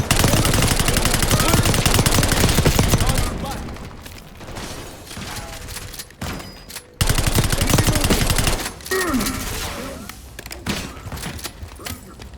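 Rapid gunfire in the Call of Duty: Black Ops 6 campaign mission Under the Radar, loud bursts of automatic fire and heavy shots with explosive thumps, dipping briefly before another intense volley, dense combat noise throughout.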